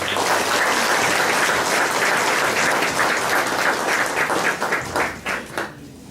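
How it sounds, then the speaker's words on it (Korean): A church congregation applauds as a pastor is welcomed, dense sustained clapping that thins into scattered individual claps before fading out. "우리 목사님 박수로 환영합니다"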